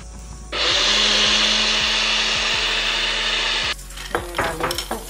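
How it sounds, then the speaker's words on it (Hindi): A blender whirs through mango, coconut and water for a smoothie, starting abruptly and running as a loud, steady roar for about three seconds before stopping, followed by lighter clinks and handling. "इसको अब मैं अच्छे से ब्लेंड करूँगी।"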